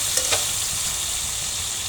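Food fries in a Topper frying pan with a steady, bright sizzle, broken early by a couple of quick clicks from stirring, and no voices.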